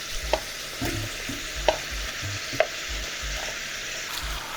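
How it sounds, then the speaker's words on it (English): Meat and vegetables for nikujaga, the Japanese stewed potato and meat dish, stir-fried in a pan: a steady sizzle with a few sharp clacks of the utensil against the pan, close and fairly quiet, no voices. "and stir fry"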